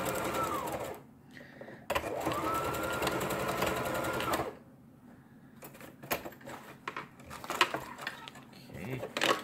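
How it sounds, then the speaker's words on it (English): A sewing machine stitches down the middle of fanny pack fabric, its motor whirring in two sustained runs, then stopping for clattering handling noises and a few short bursts. "we're just going to sew right down the middle of this thing"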